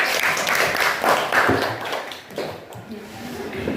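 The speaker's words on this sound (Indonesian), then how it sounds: "berikan tepuk tangan dulu untuk kelompok 1" Classroom applause for group 1 during a lesson: a burst of clapping from students that fades after about two seconds, leaving murmured voices and a few light taps.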